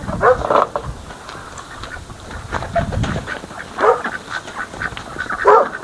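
Ducks quack loudly and repeatedly at close range in a backyard poultry pen, with several bursts of calls overlapping across the scene and no talking.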